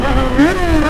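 Yamaha XJ6 motorcycle engine revving with a worn exhaust, a close, loud, rising and falling roar lasting about a second.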